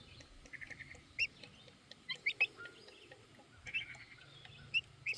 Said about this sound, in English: What a smart chicken.